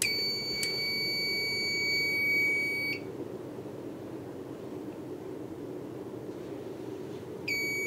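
A high electronic piezo trouble beeper on a fire alarm panel, muffled by electrical tape, sounds continuously for about three seconds, stops, then starts again near the end over a low background hum.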